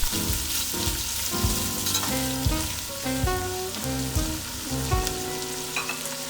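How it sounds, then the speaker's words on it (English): Vegetables sauté in olive oil for a cabbage, turkey and beef soup, a steady broadband sizzle running throughout with repeated clanks and scrapes of a utensil stirring the pan, close and fairly loud, no talking. "We want them to saute, but we don't want to cook them too much."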